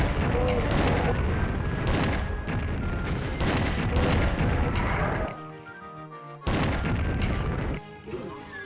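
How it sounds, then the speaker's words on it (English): Rocket launcher blasts and explosions in the video game Doom II, a dense run of loud booming hits close together, a brief quieter gap, then another burst of loud explosions. "I'm gonna rocket them too."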